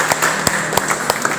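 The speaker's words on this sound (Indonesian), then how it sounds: "tepuk tangan untuk kelompok 4" Scattered hand claps from a small group in a classroom, brief and uneven, with a steady room murmur underneath.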